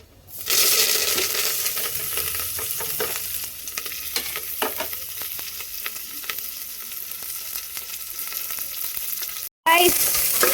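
Rice, onions, curry leaves and green chillies land in a hot pan and erupt into loud, close sizzling, with scraping stirring strokes over the steady crackle and a brief break near the end.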